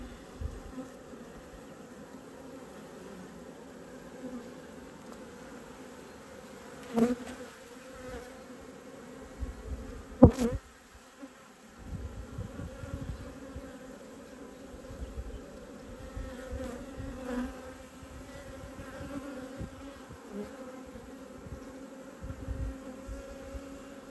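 Honey bees buzz steadily in a dense, close swarm during an apiary hive inspection, with a couple of sharp knocks from handling frames partway through.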